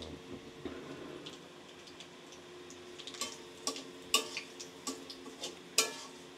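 Onions sizzle and crackle in a pan for a country chicken curry, a steady fry hiss under scattered sharp ticks and spoon stirs, close and fairly quiet with no talk.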